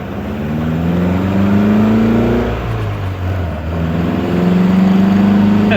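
A 1962 Triumph TR4 engine with throttle bodies rumbles and revs continuously, its pitch rising and falling through a couple of throttle blips, loud and close with no voices.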